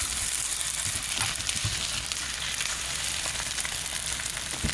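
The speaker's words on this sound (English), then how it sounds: "Then I just started to fold the potato and ham into the egg and just move it around until it was all mixed together and scrambled up" Potato, ham and egg being folded and scrambled in hot bacon grease with black pepper give a steady, close, dense sizzle that holds unbroken throughout, with no voices.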